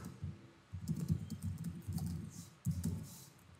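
Typing an email address on a computer keyboard, with quick irregular clusters of key clicks running steadily, close and fairly loud, with no talk over it.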